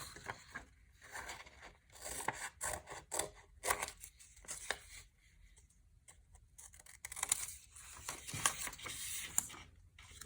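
Scissors cutting out dark blue paper, with steady, close snipping and crisp paper rustling in quick runs, broken by short pauses as the paper is turned.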